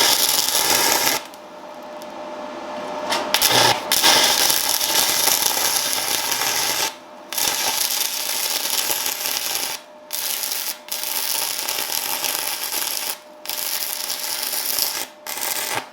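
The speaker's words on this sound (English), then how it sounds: "So there's our first weld." Stick welding with a YesWelder FIRSTESS MP200 multi-process welder, a loud continuous crackling buzz of the arc in long bursts, broken by several brief pauses, close up and with no talking.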